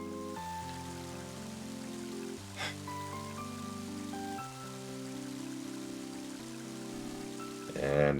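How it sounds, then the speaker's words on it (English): Rain in the video game Mother 3 hisses as a soft, steady wash beneath a stepping synthesized melody, with one brief louder burst near the end. "And now it's starting to rain."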